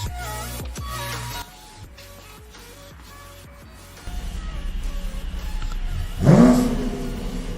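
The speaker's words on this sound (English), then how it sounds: "Vilma, take out your car." A car is driven out with its engine revving, first quiet and mechanical, then building to a louder, rising rev with a sharp surge near the end.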